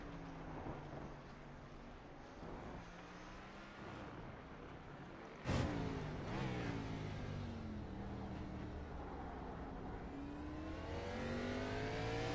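Onboard engine of a Gen 6 Cup Series stock car in iRacing at COTA West, revving and shifting through the rising and falling gears of a tight section, steady and fairly quiet, with a sharp burst partway through.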